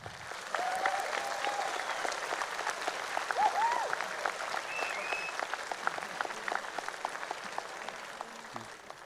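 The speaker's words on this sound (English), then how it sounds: "Give a big round of applause." An esports audience at a League of Legends event in Warsaw gives sustained applause as a team takes the stage, a steady crowd clapping throughout with scattered cheers and whistles.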